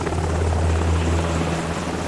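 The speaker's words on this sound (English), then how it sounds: "They make the pilot fly the helicopter to the place where Langston is going to meet AM" A helicopter flies in a film scene, its rotor making a loud, continuous low thrum with an even buzzing drone throughout and no voices over it.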